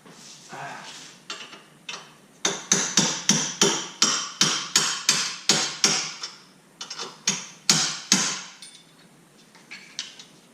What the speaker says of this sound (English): The way to do that is work the nut out a little bit and tap it.